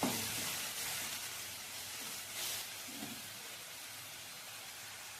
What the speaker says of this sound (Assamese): এয়া পিঁয়াজ, আদা, নহৰুখিনি ভালকৈ ৰঙচুৱা হ'ল, ভাজি হৈ গ'ল।